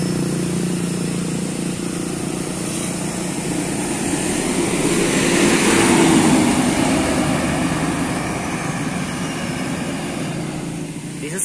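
A metropolitan bus drives past on a downhill road, its engine hum swelling to a peak midway and then fading, heard from roadside amid steady outdoor noise.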